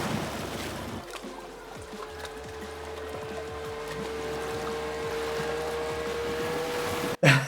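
A steady droning boat engine in the video game Rocket League hums with a constant tone, flat and unchanging, ending in a sudden thump.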